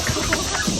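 A native Filipino chicken on a farm in Bukidnon gives a few soft, close clucks amid steady outdoor background noise.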